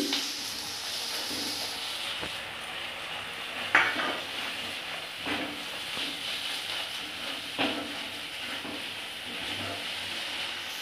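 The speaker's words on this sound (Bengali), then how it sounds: "যে বাদাম, চারমগজ আর পোস্ত বেটে নিয়েছিলাম সেটাও দিয়ে কষে নিচ্ছি।" Paste of ground nuts, melon seeds and poppy seeds frying in spiced masala for a katla fish rezala, giving a steady close sizzle with occasional sharp spoon scrapes and clinks against the pan, no voices.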